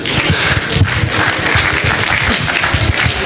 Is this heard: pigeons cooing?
no